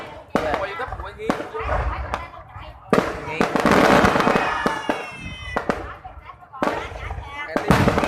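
Fireworks go off in a rapid string of sharp cracks and bangs with crackling bursts between them, close and loud, while people talk over the noise.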